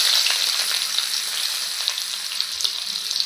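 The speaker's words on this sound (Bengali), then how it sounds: "ভালো করে একটু ভেজে নেব" Onion and green chili frying in hot oil along with fish, a steady close sizzle with faint crackles, no voices.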